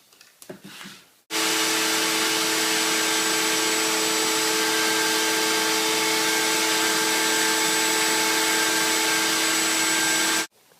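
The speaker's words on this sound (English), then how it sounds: "here you see it after I've machined the edge on the shaper table" A shaper table machines the edge of a birch bark drawer front, a loud, steady whirring drone that starts abruptly, holds for about nine seconds and then cuts off.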